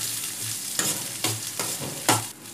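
Shallots and green chillies sauté in a pan with a soft, steady sizzle, broken by a few distinct scraping stirs of a spoon at roughly even intervals.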